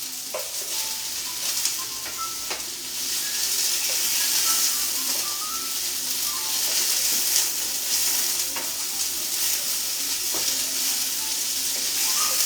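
Onions fry in a pan with a steady, close sizzle and hiss, broken now and then by scraping stirs and small clinks across the whole stretch, with no talking.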